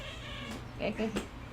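A pet cat vocalizes with a couple of short meow-like calls close by, over a faint background hum.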